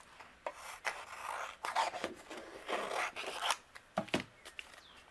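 Matte metallic cardstock is trimmed with soft scraping, rasping cuts in short uneven strokes, close and fairly quiet, with brief pauses between passes.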